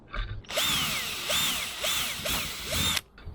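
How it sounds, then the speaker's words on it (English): A power drill whirs loudly and steadily for about two and a half seconds, boring a small hole through a ceiling, its high whine dipping and rising in repeated strains as it bites through material. "we're gonna drill a tiny little hole through here"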